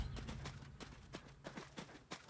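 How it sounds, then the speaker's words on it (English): Horse hooves clip-clop in a farm video game, a quick steady run of light thuds against a low background hum, with no talk over them. "El caballo."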